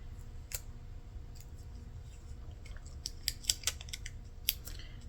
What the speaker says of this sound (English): I lost my edge on my tape now.